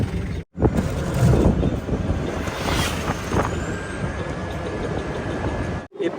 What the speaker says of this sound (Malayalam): ഇത് തൊട്ട് മുന്നിലൂടെ ബസ് പോകുന്നു.